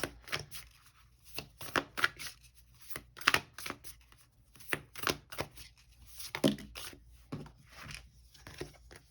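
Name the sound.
oracle cards being shuffled and handled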